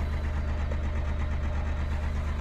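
A tractor engine idles close by near cows on a farm, a steady, loud low rumble with a slight knocking pulse throughout and no talk.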